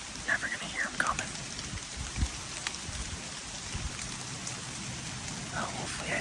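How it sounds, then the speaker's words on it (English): Steady rain falls through wet woodland during an early-season deer hunt on public land in Wisconsin, a continuous soft hiss of drops on leaves with a few louder nearby patters, sustained throughout. "It's going to be tough in here tonight with the rain and everything being wet."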